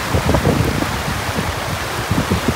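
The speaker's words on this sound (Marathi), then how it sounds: "इतका मुसळधार पाऊस पडतोय ना, त्यामुळे प्रवाह खूपच वाढलेला आहे." Heavy monsoon rain falls beside a swollen, fast-flowing river near a village by Gadeshwar Dam, heard as a dense, steady wash of rain and rushing water with no talk.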